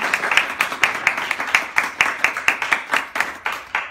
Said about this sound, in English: Let's give each and every one of them an applause.